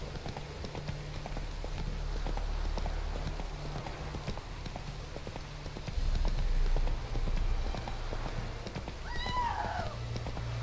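Horse hooves galloping in The Witcher 3, a steady rhythmic clip-clop that runs throughout at moderate loudness, with a short whinny near the end and no talk.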